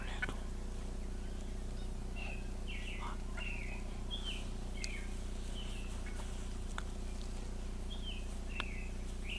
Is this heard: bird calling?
yes